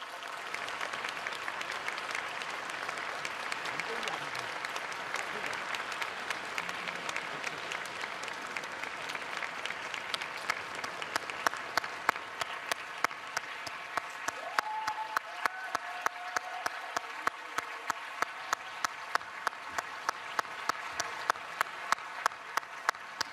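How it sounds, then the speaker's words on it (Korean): A large audience applauds as four presidents enter at a formal event, sustained dense clapping that gradually settles into a steady rhythmic, unified beat. "대통령 네 분께서 입장하고 계십니다. 큰 박수 부탁드리겠습니다."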